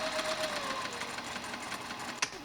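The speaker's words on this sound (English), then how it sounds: "you're going to start with a back tack, sew it 1/2 inch, following the curve of the side seam" A sewing machine runs steadily as it stitches the curved side seam of custom pants, a close mechanical whir with one sharp click near the end.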